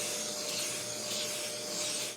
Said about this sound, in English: Make sure you vacuum all the dust off of there.